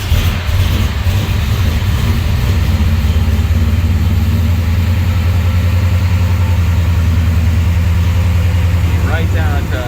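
A 1965 Pontiac GTO convertible's fuel-injected stroked 460 engine idles loud and steady with a deep rumble throughout, a person talking over it.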